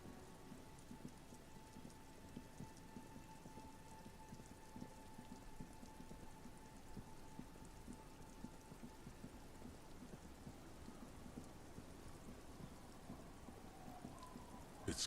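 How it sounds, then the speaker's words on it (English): Rain falls steadily with low rumbles of thunder in the video game Disco Elysium, a quiet, even patter in the background with no voices. "It's getting late, and it's raining."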